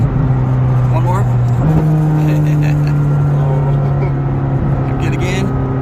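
A McLaren 620R accelerating hard with its engine note climbing and a gear shift partway through, loud in-cabin roar, with a voice speaking over it.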